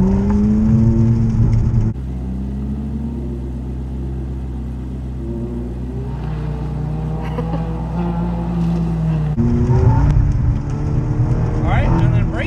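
A Ferrari F430 on a track gives a deep, steady engine drone that climbs slowly as it gains speed, loud and close inside the cabin, with someone talking over it for much of the time.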